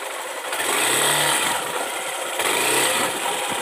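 Two motorcycles travel together, an engine droning steadily nearby, its revving rising and falling slightly, with rushing wind noise throughout.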